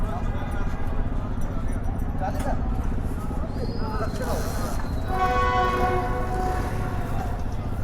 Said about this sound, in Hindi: शायद ये विसल कराची की तरफ जाने वाली ट्रेन का है।